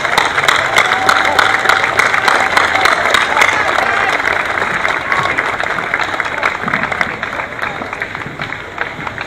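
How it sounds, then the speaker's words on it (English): Sustained applause from a large outdoor crowd at a Memorial Day parade in Scotch Plains, dense steady clapping with some cheering, holding at an even level for the whole stretch. "Let's give a round of applause."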